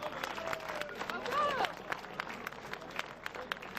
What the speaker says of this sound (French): Applaudir le sociétaire du team Brickbet Cotentin, Benoît Cosnefroy.